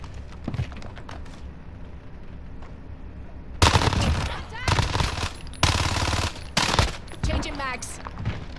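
Rapid machine-gun bursts in a video game aerial fight as an aircraft is shot down, several loud clustered volleys following a quieter stretch with scattered shots and light talk.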